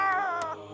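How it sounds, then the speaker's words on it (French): A single close cat meow, drawn out and slightly falling in pitch, fades into a low background hum. "Gentil le chat, gentil le chat."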